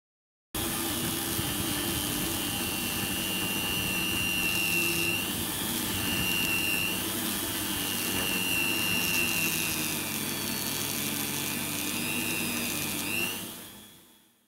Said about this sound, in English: I'm going to make a mirror using these polishing discs.